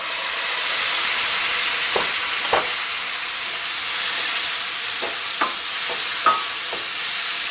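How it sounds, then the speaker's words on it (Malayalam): Tomatoes go into a frying spice masala, producing a steady sizzling hiss punctuated by several sharp spoon-against-pan clinks and stirring scrapes. "ഇതിലേക്ക് തക്കാളി ചേർക്കാം."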